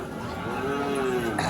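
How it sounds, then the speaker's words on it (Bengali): Holstein Friesian bull calves, about seven to eight months old, mooing at a village cattle market, a drawn-out low bellow rising and falling over steady crowd murmur. "এগুলো হচ্ছে ফ্রিজিয়াম জাতের সার বাছুর।"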